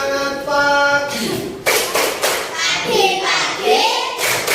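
Schoolchildren in a classroom clap along in a 'tepuk semangat' morning cheer, sharp group claps and thuds breaking out after a sung or spoken lead-in, with children's voices chanting over the loud, uneven rhythm.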